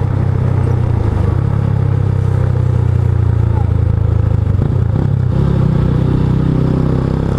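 A steady, loud engine drone runs throughout, like a street motorcycle cruising at speed during an informal road race, with wind rumble and no clear gear changes.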